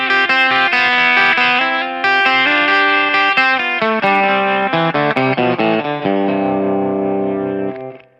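Electric guitar run through a delay pedal's shifter mode, adding a pitch-shifted voice a fourth away, with a dense melodic phrase of quick notes, loud and continuous, then fading at the end.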